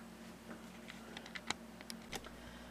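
Someone types lightly on a Cherry G84-4100 compact keyboard, producing sparse, irregular clicks of varying loudness over a low background hum, with no voices.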